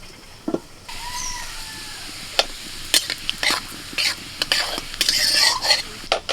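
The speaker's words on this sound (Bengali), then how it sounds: "তেল আর ঘিটা গরম হয়ে গেছে এখন আমি দিয়ে দিচ্ছি গোটা জিরে" Whole cumin seeds hit hot oil and ghee with a crackling sizzle, joined by scattered sharp clinks and scrapes of a utensil against the pan, close and fairly loud.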